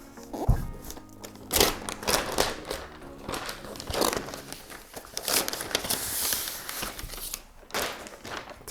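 Protective plastic film being peeled off a new MacBook Pro 16-inch laptop, a run of close crinkling, crackling and tearing rustles in bursts of varying loudness, with no talking.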